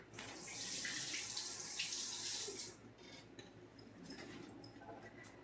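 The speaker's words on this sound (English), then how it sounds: "Now I gotta rinse my hand because it's sticky." Tap water runs over a sticky hand in a kitchen sink, a steady close gush for a few seconds that then cuts off, leaving faint drips and light clatter.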